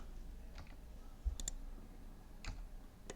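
Keys pressed on a computer keyboard, including the H key, while working in Blender 3D modelling software: a few faint, sharp clicks spaced apart, including a quick double click, over quiet room noise.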